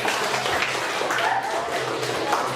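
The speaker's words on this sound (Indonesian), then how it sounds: "Oke, tepuk tangan." A classroom group clapping together in a dense, steady burst of applause that lasts throughout.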